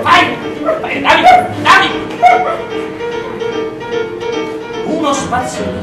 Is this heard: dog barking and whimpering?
yes